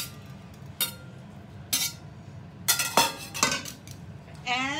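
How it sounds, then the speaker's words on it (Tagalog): A utensil mixes whisked eggs in a bowl for a tortilla de patatas, making a series of sharp clinks and scraping taps against the bowl, close and irregular, ending in a brief ringing clatter. "And, mix ulit natin hanggang well incorporated siya"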